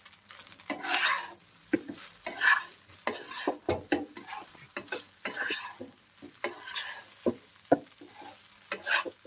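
Chicken stir-fries in a pan for fried rice, with repeated sharp scrapes and clanks of a spatula against metal over a low sizzle, close and rhythmic in uneven bursts.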